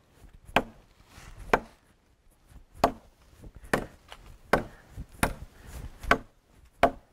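A large knife hacks into a tree trunk, landing about eight solid, sharp wooden thwacks at a steady, slightly uneven pace, close and crisp, with faint rustling between strikes and no speech.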